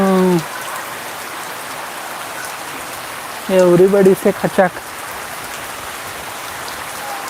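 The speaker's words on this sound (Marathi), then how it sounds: "और ये बारिश आप देख सकते हैं" Steady rain hisses throughout, an even wash of falling water, briefly interrupted by a few short spoken words partway through.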